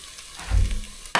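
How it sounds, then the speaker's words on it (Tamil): Ghee poured into a sugar-free Mysore pak mixture in a pan sizzles softly, with a low stirring scrape and a sharper sizzle burst at the end, close and quiet. "மிச்சம் இருக்கிற நெய்யும் ஊற்றிட்டு இதை நம்ம கலர ஆரம்பிக்கலாம்"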